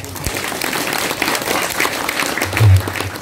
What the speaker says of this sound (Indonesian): Tepuk tangan buat perempuan.